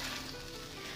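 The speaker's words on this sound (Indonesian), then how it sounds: "Ini air mulai mendidih tapi sayur kurang lebih sudah setengah mateng." A pot of water with cauliflower pieces, starting to boil, gives a steady close hiss of bubbling that lasts about a second, with no voices.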